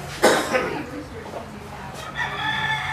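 A rooster crows loudly and close by in a single strained call near the start, followed by softer clucking among poultry, with a person speaking over part of it.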